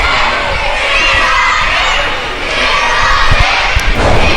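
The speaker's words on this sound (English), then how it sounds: "And this crowd still chanting, Fear the Beard." A loud wrestling crowd roars and chants together for the whole stretch, a dense wash of shouting voices with swelling and dipping intensity, occasional thumps underneath.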